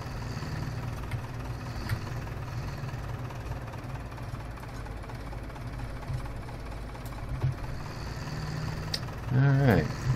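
An old Ursus tractor idles in Farming Simulator 17 with a steady, low, rumbling engine drone that runs throughout, with a brief louder swell near the end.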